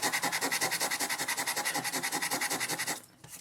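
Small piece of sandpaper rubbed over a rivet head on the metal film door panel of an SX-70 camera, making a fast, steady back-and-forth scratching rhythm, close and clear, stopping shortly before the end.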